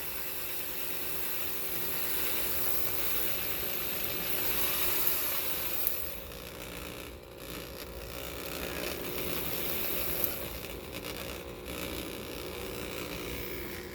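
A Wind-o-Matic machine running with its speed adjusted, giving a continuous, even mechanical whir and rubbing drone with a few small clicks, steady and fairly close throughout.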